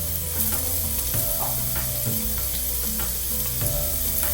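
Onions sizzle steadily in a pan as they are sautéed for sago pongal, a close, continuous frying crackle broken by occasional clinks and scrapes of stirring.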